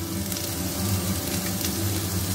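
Chopped onion sizzling in hot oil in a pan while making Bengali Gobindobhog rice with jackfruit, a steady close frying hiss that holds level throughout with no voices.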